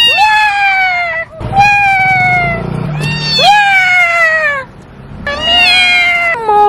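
A cat gives a string of loud, drawn-out meows close by, four or five rising and falling cries separated by short pauses, with faint background noise between them.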